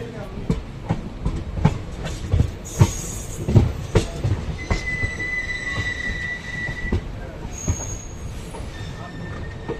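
A DEMU passenger train crossing from the main line onto the branch toward Vriddhachalam near Salem junction, with wheels clacking rhythmically over the points and sharp, sustained squeals of steel on rail.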